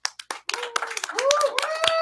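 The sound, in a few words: audience applause for a sponsor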